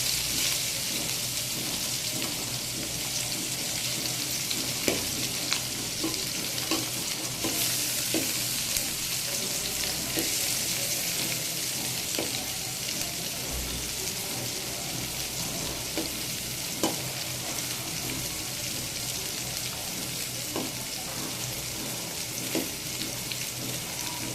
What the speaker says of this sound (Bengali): আর এদিকে আমার করলাটা কিন্তু ভাজা হয়ে গিয়েছে,